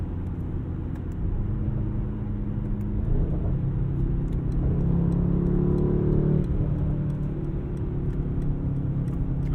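The 630hp Mercedes-AMG GT63 drives along with a steady, close engine rumble. It builds and rises in pitch as the car accelerates midway, then settles back into a low drone.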